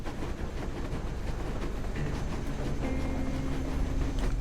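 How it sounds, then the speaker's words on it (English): Rumbling train noise in the Metro video game, a steady low rolling drone with faint rail clatter and a brief squealing tone, building slightly louder toward the end. "Well, we got train noises,"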